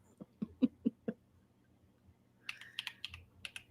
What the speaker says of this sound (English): You can hear me typing.